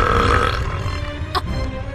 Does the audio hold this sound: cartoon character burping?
yes